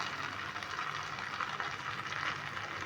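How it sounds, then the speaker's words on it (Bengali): Water poured onto sizzling spice paste for Kashmiri aloo dum, a continuous hissing, bubbling sizzle at steady moderate volume with no voices. "এবার এই সময় আমি জল দিয়ে দেবো"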